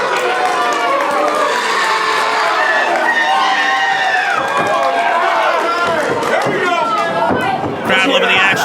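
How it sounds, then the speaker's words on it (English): Wrestling crowd cheering and shouting throughout a match, a dense roar of voices with bursts of excitement, heard under a commentator's voice. "Crowd loving the action here."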